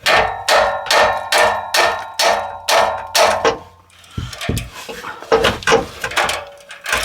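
Steady metal-on-metal tapping on a stuck exhaust flex flange bolt, about eight even hammer blows close up, followed by a few lighter, irregular knocks.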